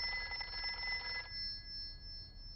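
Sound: telephone ringing in Peppa Pig cartoon

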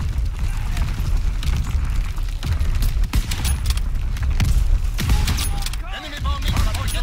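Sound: artillery explosions in Call of Duty: WW2, video game

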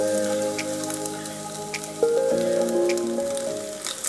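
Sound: eggs frying at the edge of a wok

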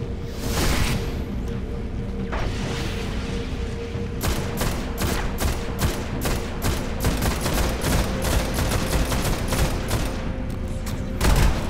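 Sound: gunfire in the video game Destiny

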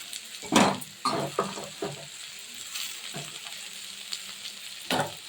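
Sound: tomatoes added to frying onions in a pan

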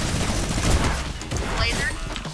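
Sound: minigun firing in a video game

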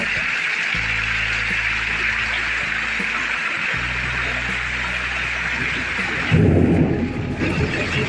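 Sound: loud thunder

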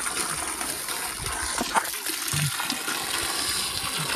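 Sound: cold water flowing at a village drinking spot

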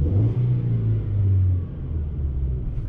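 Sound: 2004 Golf engine revving with rasp from exhaust

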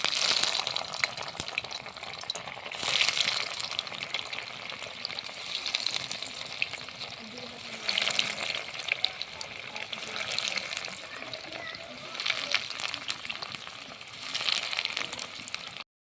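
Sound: chicken fingers frying in hot oil

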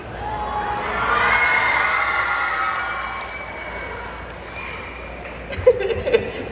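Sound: audience member shouting at a comic convention

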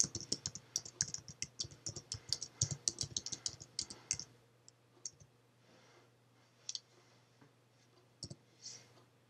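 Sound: computer mouse clicks and keyboard typing

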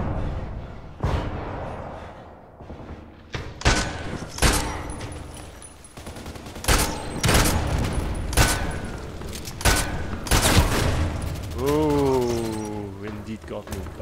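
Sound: gunfire during a defense, from the video game Contract Wars

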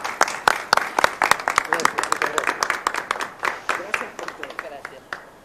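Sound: applause for a prize winner

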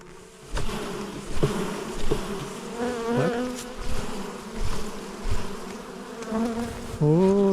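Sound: honey bees buzzing

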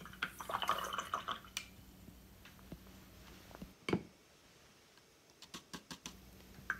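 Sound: water being transferred onto a paint palette

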